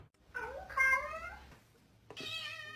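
A kitten meows indoors with a short rising cry, then a longer wavering meow. After a pause comes a further drawn-out call, all close and fairly soft with no talking.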